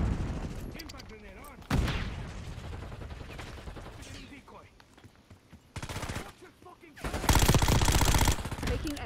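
Saug submachine gun fire in Call of Duty Black Ops 6, rapid automatic bursts up close, with a loud sustained burst near the end and quieter shooting and in-game voice callouts earlier.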